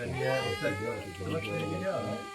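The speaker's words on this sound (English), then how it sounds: "Why are you meowing so much?" A cat meowing on and off, close by, with drawn-out wavering cries, while a person talks over it.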